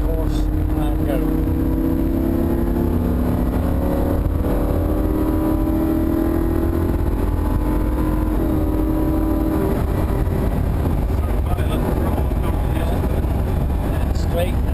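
A Lamborghini Huracan driven hard around Thruxton circuit, its engine climbing steadily in pitch through a gear with a brief dip at a shift, loud and continuous, while a voice talks over the cabin noise.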